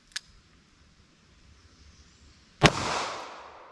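A 9mm snub nose revolver fires a single sharp, loud gunshot into ballistic gel with Hornady Critical Duty ammunition, preceded by a small click and followed by a fading echo, outdoors.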